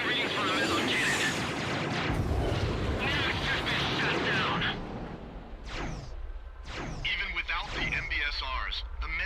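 Meson cannon firing in the video game Ace Combat X: heavy, continuous booming blasts and rumbling explosions for several seconds, then sharper sweeping bursts and jet-like whooshes, all loud and close amid dense battle noise.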